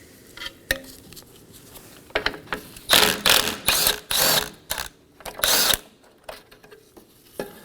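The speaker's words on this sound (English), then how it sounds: "just remove the bolts and set them aside" A ratchet wrench works on the bumper bolts of a 2015-2023 Nissan Maxima, with bursts of rapid, close metallic clicking between short pauses and a few separate clanks.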